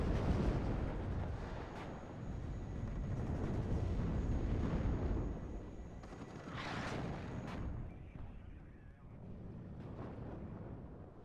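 Artillery and gunfire rumble through a WARNO multiplayer battle with the 7th Panzer Division, a dense, continuous barrage of booms and crackling shots that swells and fades in waves.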